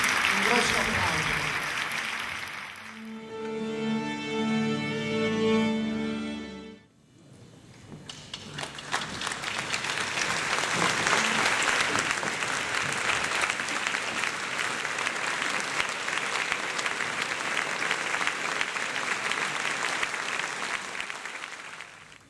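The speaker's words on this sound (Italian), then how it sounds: "Vorrei che faceste per questi artisti un grosso applauso." Theatre audience at a concert in Palermo's Teatro Politeama breaking into loud, sustained applause for the performers, clapping steady and dense throughout, briefly preceded by a sustained musical chord from the stage.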